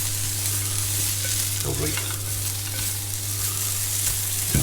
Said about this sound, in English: Yeah, it's sizzling away now.